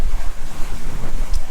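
Wind buffets a boat out on a rough sea heading offshore to fish for mahi mahi, a steady loud roar of gusts and wave wash against the hull with rumbling microphone wind noise, no talking.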